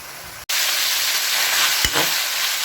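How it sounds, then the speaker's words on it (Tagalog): Chicken liver sizzles steadily in hot oil in a pan for adobo, a continuous bright frying hiss with a brief break near the start and a soft clatter partway through, no voices. "Prito nyo lang ha."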